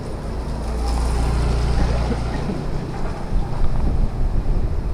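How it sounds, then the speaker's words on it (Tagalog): Strong typhoon wind during storm Kristine in Laguna, a loud continuous roar with gusty buffeting that swells and rumbles low, battering the microphone and thrashing through trees and banana plants. "Ganito kalakas yung hangin niya dito sa ano, sa Laguna."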